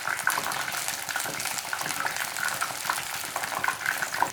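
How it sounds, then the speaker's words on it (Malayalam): Paneer pieces fry in hot oil for Paneer 65, giving a steady, close crackling sizzle with light scraping from stirring. "ഇനി നമുക്കിത് തിരിച്ചു മറിച്ചിട്ടിട്ട് നന്നായിട്ട് തന്നെ ഫ്രൈ ചെയ്തെടുക്കാം"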